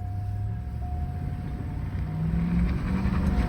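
A 2005 Chevy Silverado 2500 pickup truck revs hard as its tires peel, with a deep, steady engine rumble that swells louder toward the end.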